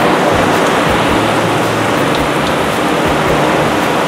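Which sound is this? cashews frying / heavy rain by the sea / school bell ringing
heavy rain by the sea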